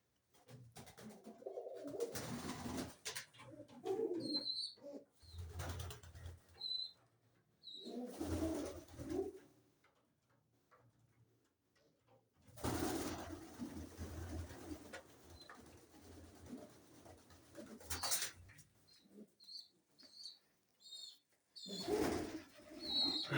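Pigeons coo softly and flap their wings during a morning feeding, calling in bursts separated by quiet gaps, with some chirps mixed in and no talking.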